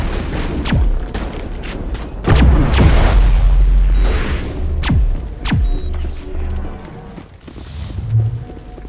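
A large gun fires in the Mass Effect video game: several loud booming shots and sharp cracks ring out over a dense rumble of battle.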